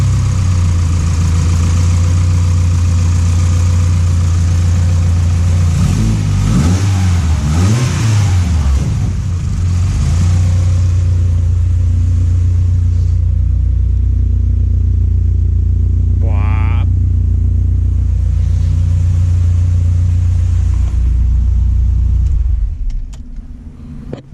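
A Honda Civic with an LS VTEC engine idles steadily and fairly quietly nearby, its low rumble continuous throughout, with a few brief rev-like swells early on before the sound cuts off at the end.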